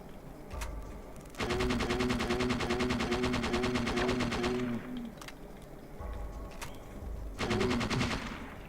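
Gunfire in Parasite Eve 2 on Nightmare difficulty: a long rapid automatic burst with a ringing tone, followed by scattered single shots and shorter bursts, loud and close with quieter gaps between them.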